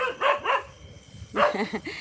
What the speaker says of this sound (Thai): เสียงหมาเห่าไหมคะนี่